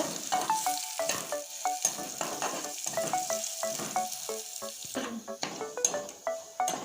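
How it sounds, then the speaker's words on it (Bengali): Crushed garlic fries in hot oil while being stirred, a steady close sizzle broken by repeated clinks and scrapes of a utensil against the pan, with no talk. "থেতো করে রাখা রসুন এটাও দিয়ে দিচ্ছি রসুনটা লাল করে ভেজে নেব"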